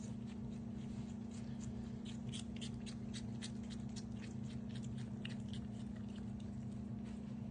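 Raccoons chewing and crunching on apples, a quick run of close, crisp bites and munching repeating steadily over a constant low hum, with no talk.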